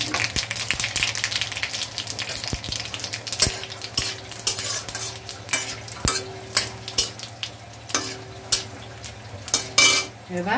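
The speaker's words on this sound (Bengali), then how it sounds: "তেজপাতা দিচ্ছি, জিরে ফোড়নে দিচ্ছি" Bay leaf, cumin and chili tempering in hot oil for a moong dal with papaya and coriander, sizzling under repeated sharp scrapes and clinks of a spatula against the pot, with no voices.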